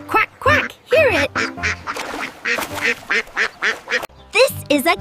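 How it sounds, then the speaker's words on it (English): A duck quacks in repeated short calls, with a child-friendly narrating voice speaking over and between the calls throughout. "This is a duck. It swims so well. Quack, quack, hear it."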